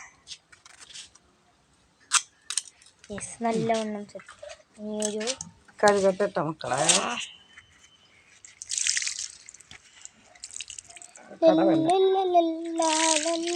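Taro pieces being washed in water, with splashing and dripping in short bursts between stretches of nearby talk.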